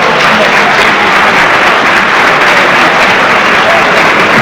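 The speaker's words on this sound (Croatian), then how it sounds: "Ja mislim da nam to zasluže još jedan aplauz" Sustained applause from an audience at a sports awards ceremony honouring an athlete, a dense, steady wash of clapping that stays loud and even throughout.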